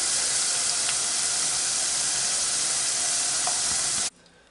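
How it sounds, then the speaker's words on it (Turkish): Peppers sizzle and hiss loudly in hot oil with a steady crackle, cutting off abruptly near the end. "Şimdi biberimizi kızartacağım."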